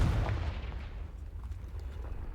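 A Confringo fire spell blast in Hogwarts Legacy, a loud booming burst at the start that fades into a low rumbling tail.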